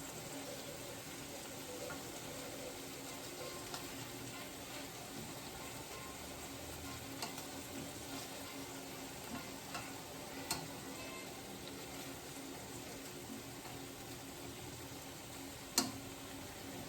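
Turkey meatballs fry and brown in a pan with a faint, steady sizzle and occasional small ticks and pops, one sharper pop near the end, with no voices over it.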